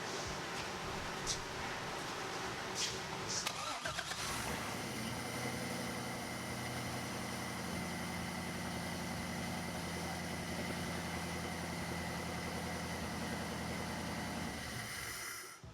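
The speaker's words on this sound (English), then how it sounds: "The exhaust is insanely loud" A stock-PCM LS V8 in a pro-touring wagon cranks briefly, then catches and settles into a steady, rumbling idle that continues at an even level, fairly quiet overall.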